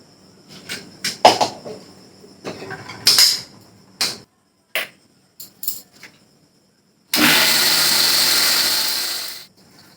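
An electric grinder runs in one loud, steady whir for about three seconds, grinding a spice paste, after a run of scattered clinks and knocks from handling the jar and lid.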